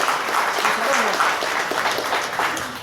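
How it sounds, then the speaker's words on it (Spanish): A crowd at a conference claps enthusiastically, a dense, continuous patter of applause filling the room, with a voice faintly heard beneath it. "Fuertes aplausos."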